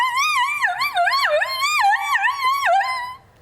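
A person's voice mimics a wolf with a rapid cycle of wavering yips and yowls that rise and fall in pitch like a howling dog, loud and close, fading at the end.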